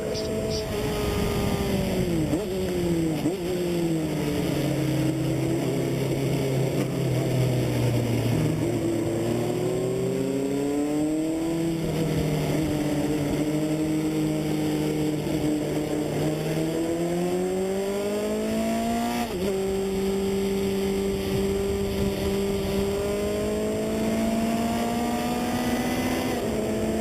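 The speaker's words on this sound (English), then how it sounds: "that was a Lola 2006 Indy car that just blew between me and that other little Super V" A 2006 Lola Indy car roars past on a track at the Brickyard, its pitch sweeping up and down through gear changes, with continuous loud engine noise throughout.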